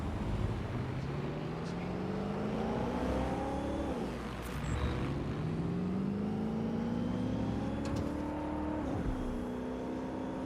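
A fast car in Watch Dogs: Legion, its engine revving steadily and climbing through gear shifts, loud and close with a continuous drone.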